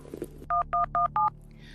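Four evenly spaced telephone keypad tones beep in quick succession, clear and close, after a brief bit of faint background noise.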